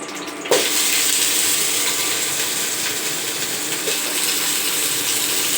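Boiled cauliflower sizzles and fries in mustard oil in a pan for khichuri, a loud steady hiss that starts abruptly after a brief quiet moment and continues evenly, with a small clatter near the start.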